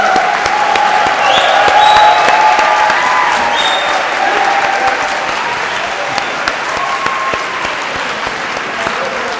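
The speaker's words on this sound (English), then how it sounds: "So let's have another round of applause for all the media management graduates" A graduation ceremony audience applauding media management graduates, sustained loud crowd clapping filling a hall, with scattered cheers and faint voices, gradually easing slightly.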